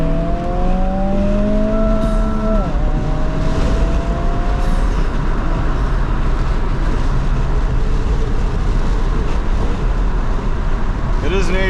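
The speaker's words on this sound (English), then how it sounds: "It actually doesn't make sense that a stock Honda Civic sounds as good as these do." A stock Honda Civic drives along an open road, probably recorded from on board, with a steady engine drone and rising then falling gear tones under heavy wind rumble. Voices talk over it.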